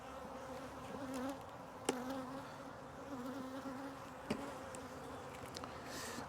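Honeybees hum around an open hive during a split, a faint steady buzz with a few insects passing close in brief louder swells.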